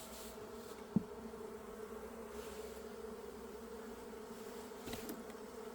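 Eastern (Asian) honeybees from a newly arrived swarm buzz around their hive in a steady, close, continuous drone, with a brief click near the start and no talking.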